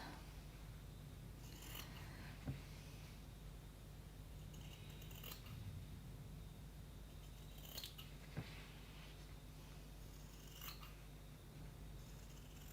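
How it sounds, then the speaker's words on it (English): Scissors snipping the corners of wallet material while sewing a wallet flap, four quiet crisp snips spaced a few seconds apart over a steady low room hum, with no talking. "I like to just snip in almost to the pivot point."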